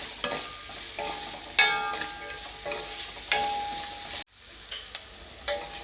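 Onions fry in a pan with chillies for paneer fried rice, a steady sizzle punctuated by repeated sharp metallic scrapes and clinks from stirring, with one abrupt drop in level near the end.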